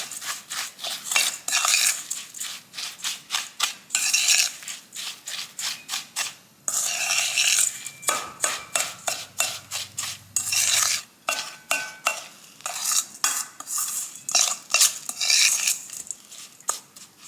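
A spoon stirs a melted butter mixture in a bowl, loud rhythmic scraping and clinking strokes repeating quickly, with a couple of brief pauses.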